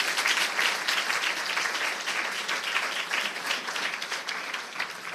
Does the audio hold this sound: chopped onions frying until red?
no